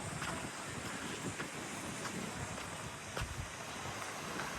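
Strong wind buffets the microphone at a beach over a steady roar of ocean waves washing in, loud and continuous with no voices.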